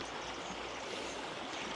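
A small river flows through a ravine near Belchite in Spain, making a continuous rushing, gurgling wash of water that sounds close and even throughout, with nobody speaking.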